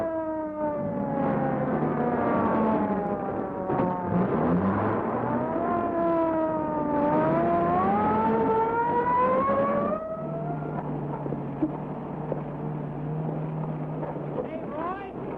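Patrol car siren wailing in long rising and falling tones over a running engine, loud and close; the wail cuts out partway, leaving the engine rumbling on.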